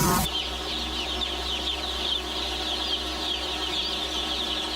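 Broiler chickens at a crowded meat-chicken farm cluck in a constant, dense chorus, many birds at once with occasional flapping, steady and close throughout.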